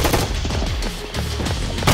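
Rapid, loud bursts of pistol fire in a video game, shots packed tightly into an almost continuous stream with sharp transients across the whole span.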